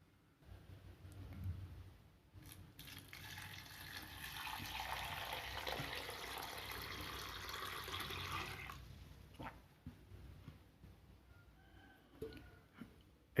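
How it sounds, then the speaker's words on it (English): Dried silver fish rinsed in a bowl of water, a steady splashing, sloshing wash that swells for several seconds, then gives way to a few small drips and clinks close by. "you have to rinse it in water."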